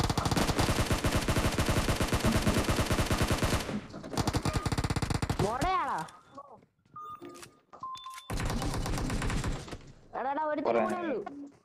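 Video game gunfire: long, dense bursts of rapid automatic fire, loud and close, with breaks filled by swooping effects and short tones, then another heavy burst and more effects near the end.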